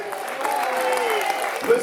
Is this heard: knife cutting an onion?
no